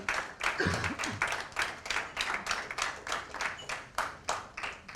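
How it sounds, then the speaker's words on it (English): Audience applause at a dance research congress in Mumbai, sounding as rhythmic, evenly timed group clapping, loud and close, with a brief voice near the start. "A big round of applause for every one of them."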